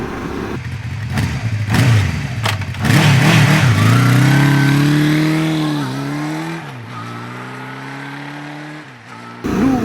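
A QJ SRT600SX motorcycle riding on sunny country roads in the Dordogne, its engine loud and close, revving up through the gears then settling into a steady cruising drone with wind noise.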